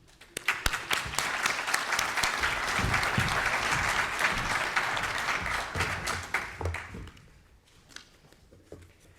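Audience applause welcoming General Philippe Lavigne, NATO Supreme Allied Commander Transformation, at an event in Paris: dense sustained clapping from a large crowd that swells quickly and fades out toward the end.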